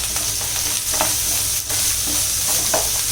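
Spice paste for shrimp malai curry with coconut and salt fries in a pan, giving a steady close sizzle with soft stirring scrapes, no talking.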